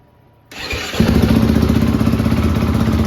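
A 2013 Yamaha YZ450F dirt bike fires up on its electric starter after a brief crank, then runs loud and close at a steady, rattling idle with no talk.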